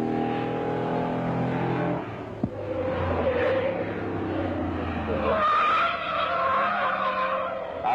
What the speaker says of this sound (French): la Charger Daytona a mis 149 pieds à s'arrêter lors de notre test de freinage